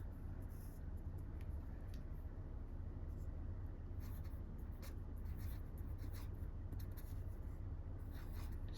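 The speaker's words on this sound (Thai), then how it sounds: "เดี๋ยวเราจะเขียนไว้ชุดตรงนี้เลย" Pen writing numbers by hand on paper, a continuous soft scratching and rubbing with brief stroke bursts, close and steady throughout with no talk.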